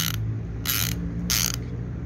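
Okuma Cavalla fishing reel clicking as line pays out, three loud bursts of rapid ratchet clicks separated by short pauses over a steady low hum, close by with no talk.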